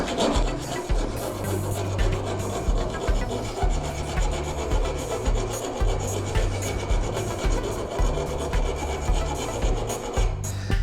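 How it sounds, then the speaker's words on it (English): A metal hand file rasps along the top edge of a go-kart axle in steady, rhythmic back-and-forth strokes, close and fairly loud, with no talking. "And we'll also file the top edge down."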